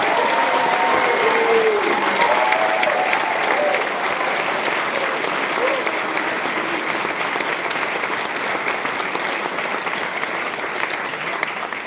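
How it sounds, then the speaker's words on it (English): Convocation audience giving graduates a final warm round of applause, a dense, sustained roar of many clapping hands in a large hall that stays loud for the whole stretch, with a voice briefly audible near the start. "Another final warm round of applause for today's graduates."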